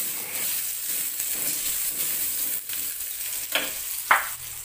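Chili peppers and garlic fry in hot oil with a steady close sizzle and crackle. Near the end, a couple of brief stirring scrapes rise above it, and no one speaks.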